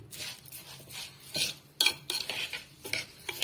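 A spoon scrapes and clanks against a pot while stirring rice with salt for a rice casserole, irregular close strokes with sharp metallic clinks and no talking.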